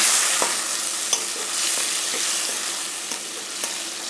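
Fish with spices frying in a pan: an even, close sizzle runs throughout, with a few soft spatula knocks now and then.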